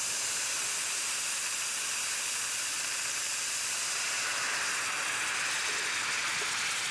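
A hot pan hisses and sizzles steadily as chicken stock is poured in for deglazing, a dense, even, bright hiss with no talk, lasting throughout.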